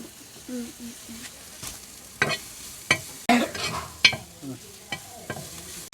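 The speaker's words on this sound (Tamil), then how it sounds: "அப்படியே வதக்கணும் நல்லா வதங்கிடுச்சு" Onion masala is sautéed in a pan for Chettinad-style gravy, with soft frying crackle beneath intermittent sharp spatula scrapes and clacks against the pan, close, with faint background sounds between strokes.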